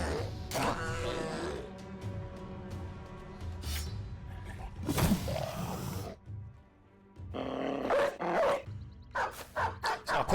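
War dogs bark and growl in the tactical video game Battle Brothers amid battle effects, with repeated bursts of barking and snarling that come close and loud, then drop briefly before more rapid barks at the end.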